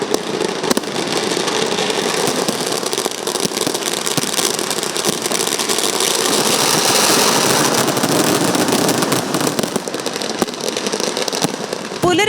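Dense, continuous crackle and booming of fireworks at the Thrissur Pooram festival, a loud sustained barrage of overlapping bursts with no pauses, heard in the open from close range.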